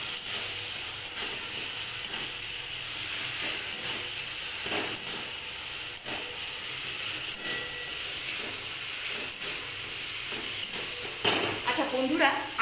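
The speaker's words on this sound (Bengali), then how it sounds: "এবার এটার সাথে একদম ভালো মতো কষিয়ে নেব।" Potatoes stir-fried in a pan for a Bengali puffed rice ghonto, with a steady close sizzle and repeated scraping clicks of a spatula stirring throughout, busier toward the end.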